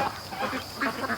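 Domestic free-range ducks quack agitatedly at night, several overlapping, close, raspy calls in quick irregular bursts.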